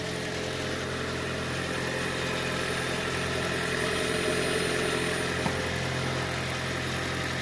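A Toyota Prius Alpha engine idles steadily after an EGR cleaning, a constant, even mechanical hum with light vibration running close and unbroken throughout, with no voices.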